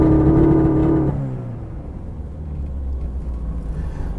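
A Toyota AE86 engine sits held on a launch control ignition cut, buzzing hard at the limiter for about a second before the revs drop away into a low, rumbling idle.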